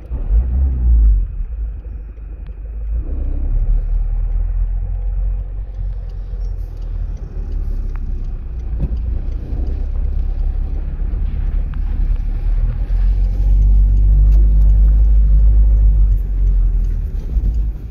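A car pulling away in first gear during a driving lesson gives a steady low engine rumble with wind buffeting the microphone, fairly loud and continuous throughout, with no talking.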